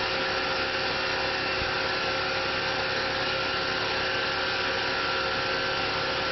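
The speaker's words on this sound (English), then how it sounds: "This is using the 3-flute Lakeshore Carbide Zirconium Nitride Cutter. And the cut appears to be going very smoothly." A Tormach PCNC 1100 mill cutting with a 3-flute Lakeshore carbide zirconium nitride cutter, a steady, dense, unbroken whirring roar of spindle and cut that stays loud and even throughout, with no voices.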